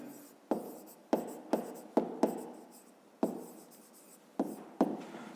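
Pen strokes as a number is written by hand for a fifth-grade maths exercise: a quiet, steady scratch broken by about eight sharp taps where the pen meets the paper, spread unevenly over several seconds, with no talk.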